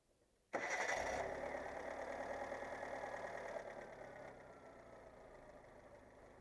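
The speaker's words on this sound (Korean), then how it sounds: "시동 걸어줘봐요." A Kia Morning's engine cranks and catches abruptly, then settles into a steady idle that drops slightly in loudness, close by with no talk.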